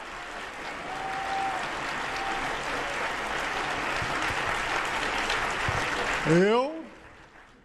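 Sustained audience applause following a 10-year-old's Chopin piano performance at a philharmonic concert, loud and steady for several seconds, with a brief voice near the end as the clapping fades.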